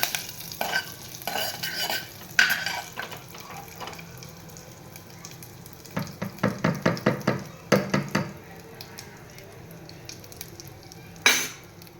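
Curry leaves hit hot ghee in a pan for a fasting-style kadhi, followed by a quick run of close, rhythmic stirring scrapes and knocks over a low sizzle, then a last sharp clatter.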